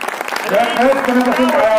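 Audience applause at a political rally, a dense continuous clapping wash under a person's loud speaking voice.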